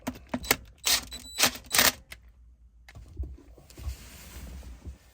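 Bolts being tightened on a Defender Puma 110 gear lever: a quick run of sharp ratcheting clicks up close, then a brief pause and softer rustling of hands and tools.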